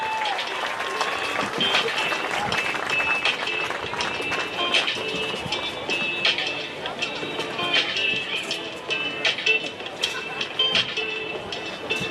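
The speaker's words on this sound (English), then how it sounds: "Please applaud for senior Preston Warner" Spectators clap at a high school football game between Chestnut Ridge and Richland during a senior night salute, a moderate, steady patter heard alongside a public address voice and crowd bustle.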